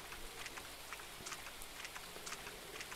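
Steady rain falls in the Grim Soul video game, a continuous hiss of patter with scattered drop ticks, even and moderately loud, with no voices.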